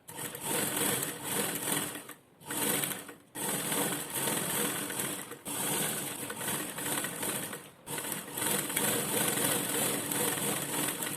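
A sewing machine stitches a jacket lining with a loud, continuous, close whirring clatter, broken by a few brief pauses before it starts up again.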